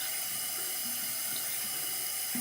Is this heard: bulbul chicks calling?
no